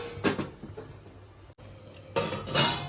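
Ridge gourd curry cooked with milk being stirred in a pot, then a lid set on top, giving brief metallic scrapes and clatter, a short pause and a louder clank of metal near the end, no voices.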